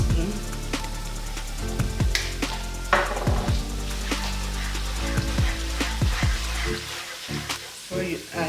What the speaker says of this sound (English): Then you stir it together